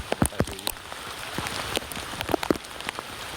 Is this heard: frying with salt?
no